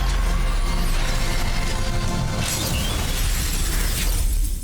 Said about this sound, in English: And may the glass break your way.